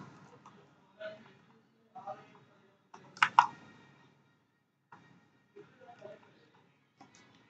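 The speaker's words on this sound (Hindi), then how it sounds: "यहाँ पे डबल क्लिक करेंगे आप," A computer mouse clicks while a spur gear is being drawn in CREO CAD software, with sparse sharp clicks and one quick double click near the middle, spaced by quiet gaps and faint background speech.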